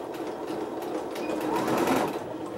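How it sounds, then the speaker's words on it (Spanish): Sewing machine running steadily while backstitching a fabric tote bag, a continuous close, even mechanical whir with no pauses and no talk. "Aquí sí, hacemos retroceso para dejarla muy bien rematada y que no se nos rompa el primer día."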